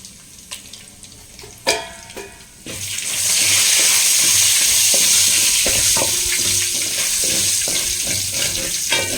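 Urad dal hitting hot oil for tempering erupts into a loud, sustained sizzle after a few utensil knocks, with light stirring and scraping sounds ticking over the steady frying up close.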